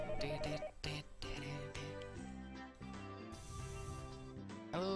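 A telephone rings in the Higurashi visual novel, a repeating electronic ringtone over layered background music, fairly quiet and continuous.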